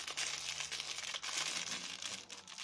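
A taped gift package being unwrapped, paper crinkling and rustling continuously up close with short tearing bursts, no talk.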